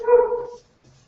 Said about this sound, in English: Oh, and there's the dog.